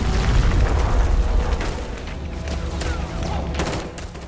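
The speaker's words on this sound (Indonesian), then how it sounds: "rombongan Kapten Cho diserang oleh kelompok bersenjata, dan bisa dibilang serangan tersebut sangatlah terorganisir." Gunfire and explosions rumble through an attack scene in a film about an armed group stealing North Korean nuclear weapons. A heavy, booming blast opens and then fades into scattered sharp cracks and pops over a continuing low roar.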